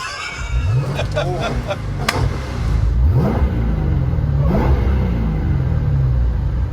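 Dodge Charger Hellcat with a 1000-horsepower engine cranks and fires, then revs in rising sweeps over a loud, steady rumble close by.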